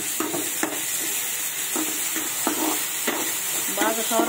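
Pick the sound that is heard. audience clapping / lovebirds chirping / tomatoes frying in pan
tomatoes frying in pan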